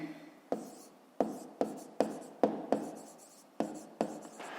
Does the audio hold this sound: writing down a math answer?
yes